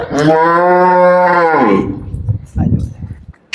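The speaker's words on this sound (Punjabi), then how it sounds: "ਜਰਸੀ ਕ੍ਰਾਸ ਇਹ ਗਾਂ ਜਿਹੜੀ ਵਿਕਰੀ ਵਾਲੀ ਹੈ" A Jersey cross cow for sale gives one long, loud, harmonic moo lasting well over a second, followed by quieter rustling and handling noise nearby.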